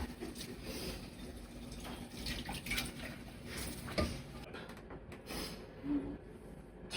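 Water running and splashing at a sink while dishes are scrubbed with a soapy sponge pad, a steady wet wash with soft scrapes and brief clinks, moderately close and fairly quiet.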